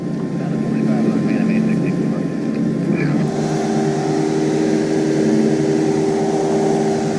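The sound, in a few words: aircraft engine during landing approach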